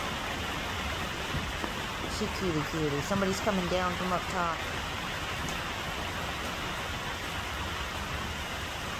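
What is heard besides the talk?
rain falling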